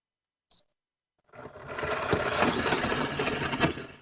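A brief click, a moment of silence, then a nut milk maker making almond milk starts a loud, steady mechanical whirring and rattling that runs on without a break.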